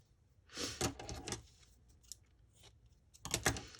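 Sari fabric is torn by hand, producing rough, scratchy ripping bursts: a longer tear at first, a few small rasps, then another short tear. The sound is fairly quiet and close, with no speech.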